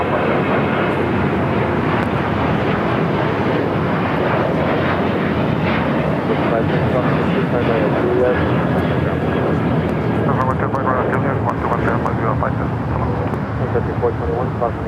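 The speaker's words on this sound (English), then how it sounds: "So it looks like a south side takeoff for the flight to Osaka" A jet airliner on a south-side takeoff roll at Los Angeles International Airport, bound for Osaka, gives a loud, continuous engine roar with wind buffeting that stays strong throughout. Talk runs over the noise.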